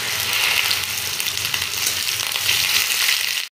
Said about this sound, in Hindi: इसको हल्का सा फ्राई कर लेंगे